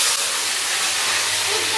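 Potatoes drop into hot oil for poha, setting off a loud, close, continuous sizzling hiss that holds steady throughout.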